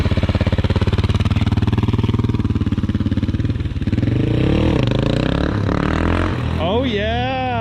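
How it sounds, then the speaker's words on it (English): Supermoto motorcycle engine revving hard through a wheelie in second gear, a loud close buzzing drone that dips briefly then climbs and wavers in pitch as the throttle is worked. "It's easier to wheelie in second gear."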